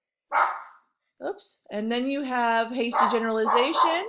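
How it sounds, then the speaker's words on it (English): A dog barks sharply once near the start, then a short second burst, followed by a person speaking continuously over the rest. "Sorry about my dog."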